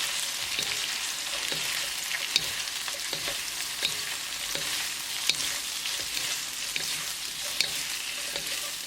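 Chicken and green beans sizzle in a pan on a medium gas flame while two spoons toss them, giving a steady frying hiss broken by soft, regular scraping and clinking strokes.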